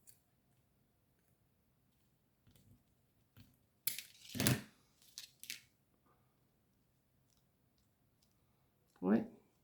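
Scissors snip paper for a wedding invitation card in a few short, crisp cuts spread across an otherwise quiet room, with one louder cluster of snips in the middle and a final clean cut near the end.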